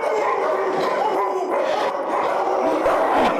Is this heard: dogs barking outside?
yes